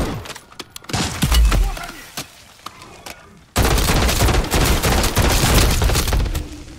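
Automatic gunfire in MW3 Zombies, loud and dense: scattered shots early on, then a sustained rapid burst from the midpoint to the end, with a faint voice in the background.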